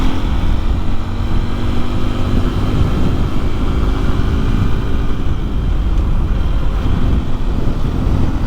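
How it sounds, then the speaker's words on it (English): Loud, constant wind roar buffets the microphone while riding a Honda XR150L motorcycle down a highway through Kisatchie National Forest on a very windy day, with a low engine drone buried under the rushing air. "Say the wind is really bad today. I can definitely feel it blowing me around on the old XR,"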